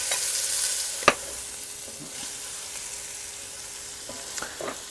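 Onion goes into a hot pan holding beef cooking juices for a Tex-Mex beef stew, giving a steady broadband sizzle with a few scraping stir clacks, the first sharp knock at about one second and several more near the end.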